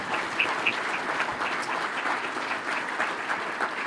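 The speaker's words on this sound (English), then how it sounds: "And I think you should applaud them." An audience at a city State of the City address claps in sustained, even applause, a dense wash of hand claps filling the room for several seconds with no speech over it.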